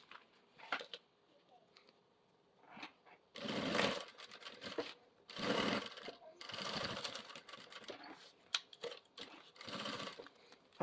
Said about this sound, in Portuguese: E vou passar uma costurinha em toda a volta.